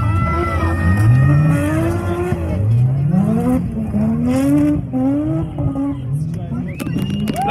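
V8 race cars roar around a Côte-Nord speedway oval, engines rising and falling in pitch as they pass, loud and continuous with a track announcer talking over them.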